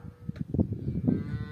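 A cow moos in an alpine meadow in Dilijan National Park, Armenia: one low, fairly close call of about a second, with no talk over it.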